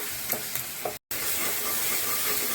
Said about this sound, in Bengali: এখন মশলাটা আমার ভালো করে ভেজে নিতে হবে।